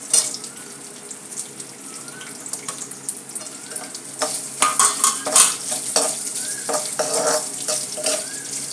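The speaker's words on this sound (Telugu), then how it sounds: "ఒక ఉల్లిపాయ, ఒక పచ్చిమిరపకాయ, కరివేపాకు ఇవి కూడా వేసి వేయించేసుకున్నాం" Onion, green chilli and curry leaves frying in a tempering, a low steady sizzle with spatula stirring and scraping that grows busier and louder midway, close by.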